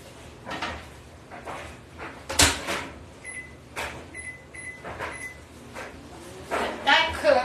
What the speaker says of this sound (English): I'm going to go ahead and put it back in the microwave for another 3 minutes.